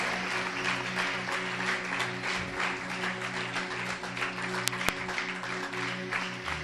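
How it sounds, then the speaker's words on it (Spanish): Loud, sustained applause from a large church congregation fills the room, steady and unbroken throughout. "Dale un aplauso fuerte al Señor."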